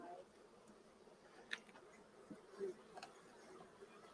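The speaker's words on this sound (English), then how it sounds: "there's a lot of bees on this frame" Honeybees buzzing around a crowded beehive frame, a soft steady drone with a few sharper close passes, while people speak faintly nearby.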